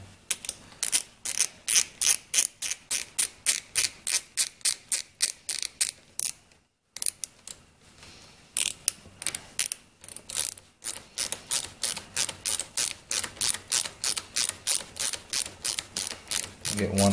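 A ratchet clicks in rapid, regular bursts while tightening long screws on a Homelite Super 2 carburetor, close and crisp, pausing briefly before the steady clicking resumes.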